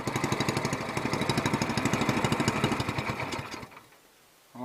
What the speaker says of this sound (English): that is a snappy, fiery little motor there